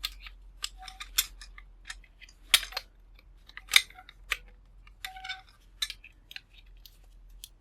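Tape and metal parts of a scrapped microwave magnetron being handled as its end cap is pulled off, giving scattered sharp clicks, scrapes and snips spread irregularly over several seconds, close and fairly quiet with no talking.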